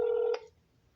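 A single telephone keypad dialing tone, a steady electronic beep lasting about a third of a second with a short click at its end, fairly clear and alone before quiet.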